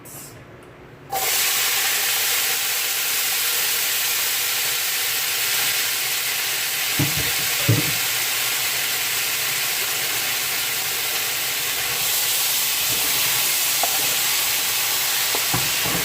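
Hot oil sizzles steadily in a pan, a loud continuous hiss that starts abruptly after a quiet second, with a few soft clicks of utensils, while frying for a Jamaican-style fish stuffing.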